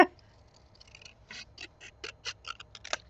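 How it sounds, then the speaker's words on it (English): Close, crisp snips of scissors cutting paper, a quick irregular series of about a dozen short cuts with no talking. "I'm just going to use my scissors now."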